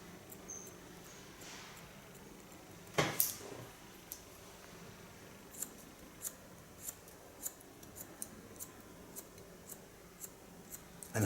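Steel hair-cutting scissors snip through hair during a blunt haircut, with a few louder close snips early and then a steady series of faint, crisp clicks spaced about half a second apart in a quiet room.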